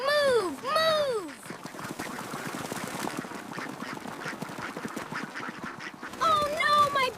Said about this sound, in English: They're so noisy. Go to the pond, ducks.